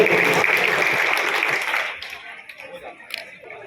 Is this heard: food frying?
no